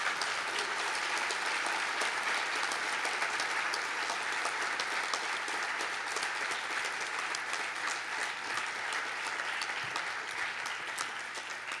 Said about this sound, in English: A round of applause for our talkers this evening.